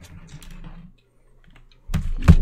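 A computer keyboard handled and pushed aside on a desk: a few soft clicks and rustles, a quiet pause, then louder bumps and a knock as it is moved, with no talking.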